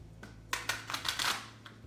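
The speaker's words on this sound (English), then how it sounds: "And I want you to just riffle shuffle that together." A deck of playing cards being riffle shuffled gives a quick burst of crisp, fluttering ripples lasting about a second, close and clear, followed by a brief soft tap as the halves settle.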